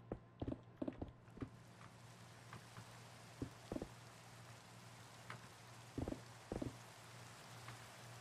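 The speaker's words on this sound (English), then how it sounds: "It's raining." Rain falls in Minecraft, a soft, continuous hiss of rainfall with occasional muffled thumping steps, faint and even throughout.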